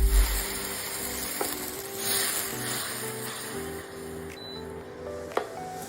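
Water poured into a sizzling tempering of asafoetida and red chili powder in hot oil, for a Kutchhi Kadak dish: an initial low splash, then a steady, quiet hiss and crackle that softens over several seconds.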